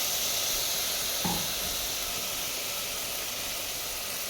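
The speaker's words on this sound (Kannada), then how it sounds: "ಈ ಮಸಾಲೆಯನ್ನು ಚೆನ್ನಾಗಿ ಹುರಿಬೇಕು" Masala paste for veg pulav frying in a pan, a steady broadband sizzle and hiss throughout, close and fairly quiet, with one brief clink partway through and no talking.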